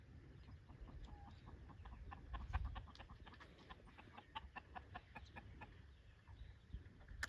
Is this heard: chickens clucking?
yes